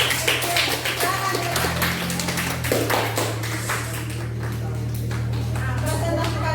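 A class of students clapping hands together in a school lesson, a moderate burst of claps over a steady low hum, with voices talking faintly in the room.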